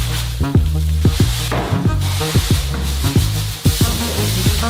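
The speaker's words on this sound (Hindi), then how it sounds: "किलो चीनी बाल्टियों में डालें।" Sugar pours from bags into buckets with a continuous grainy hiss, broken by repeated scraping strokes in a quick, uneven rhythm.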